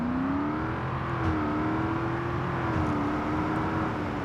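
A vehicle engine in the construction game Construction Simulator holds a steady, loud drone close by, its pitch swelling slightly and easing back as the revs shift, with no voices.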